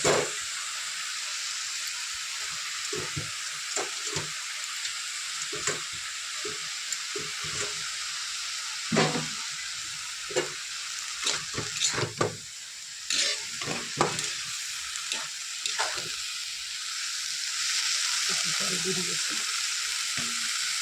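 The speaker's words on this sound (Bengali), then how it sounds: "শাকটা এতেই ভাজা ভাজা হয়ে যাবে" Fenugreek greens fry in a pan with steady close sizzling and frequent stirring scrapes, continuous throughout with no talk.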